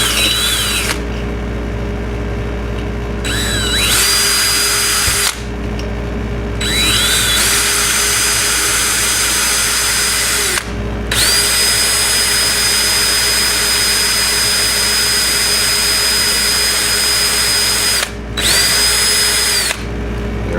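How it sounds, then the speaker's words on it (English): A power drill whines loudly in several sustained bursts with short pauses between, spinning up and biting steadily through a metal flange while drilling a small hole on a Ducati ST4. "let's see if we can drill a little hole right through this flangey thing"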